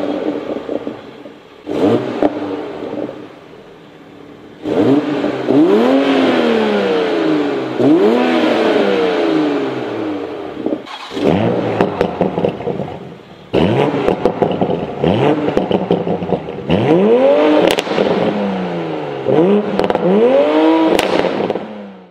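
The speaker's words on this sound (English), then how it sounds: "Toyota did an awesome job as far as tuning whatever they did to make it burble and crackle like that" A 2020 Toyota Supra's engine revs repeatedly through the stock factory exhaust, rising and falling in loud bursts, with burbling, popping and crackling between revs.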